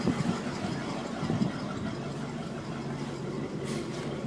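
A 1993 Kayot Ultima boat engine idling on a garden hose for cooling, a steady low rumble heard close and continuous, with faint water and background noise.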